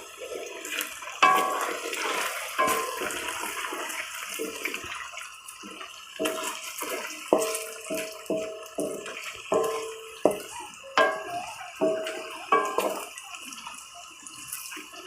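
Taro root (arbi) and potato pieces fry in a pan with a continuous hissing sizzle, broken by repeated scraping and stirring sounds close by.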